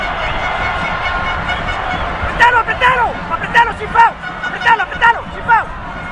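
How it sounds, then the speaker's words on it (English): Football stadium crowd at the Ecuador vs. Bolivia World Cup qualifier, a continuous broad roar of thousands of spectators; a commentator talks over it in short bursts. "Big roar from the crowd"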